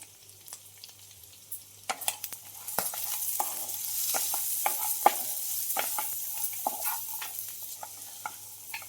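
Red chili dropped into hot oil in a pan for a Maharashtrian tur-bean amti, giving sharp crackles and pops over a steady rising sizzle, close and lively with no talking.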